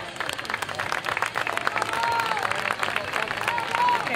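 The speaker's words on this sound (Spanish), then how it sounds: "Un aplauso, por favor." Applause from a crowd at an outdoor medal ceremony for a charity race against cancer in Vigo, moderate and fairly steady, with a voice talking over it and some tonal whistling or squeaks mixed in.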